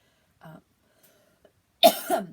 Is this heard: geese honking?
no